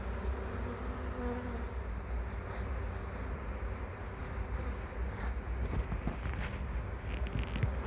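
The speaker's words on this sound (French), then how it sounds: "il y a déjà des ruches, des abeilles carnicas qui sont en train de rentrer." Many Carnica honeybees buzz close by in a dense, continuous drone as they return to the hive, with individual insects zipping past now and then over a low background rumble.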